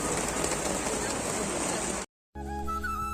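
Steady rain falling during a Vishwakarma Puja gathering at Nalco Nagar, Angul, Odisha, a dense even hiss for about two seconds before cutting off, then a different tonal bed follows.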